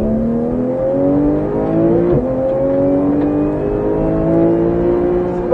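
A Porsche 911 GT3 engine at full throttle on a track driving course, loud continuous rising engine note climbing steadily through the revs with a brief gearshift dip, heard close from inside the car.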